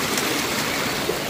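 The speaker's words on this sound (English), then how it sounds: "Top of Vaughn Falls." Vaughn Falls, a woodland waterfall on the 100 Mile Wilderness trail, roars as a steady, close, broadband rush of falling water with no voices.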